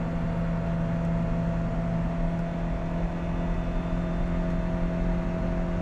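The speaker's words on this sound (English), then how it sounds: "it gets a little loud in here, working our way to second cam." A warm Lotus Elise engine revs hard toward its second cam on a mountain road, a loud, steady mechanical drone with strong harmonics that fills the clip without a break.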